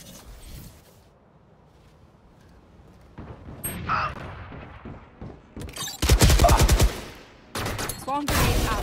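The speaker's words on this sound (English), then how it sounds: "Swarm grenade out." A swarm grenade goes off in the Valorant video game, set among other game sounds, with bursts of rapid, loud crackling fire and mechanical clatter growing stronger toward the end.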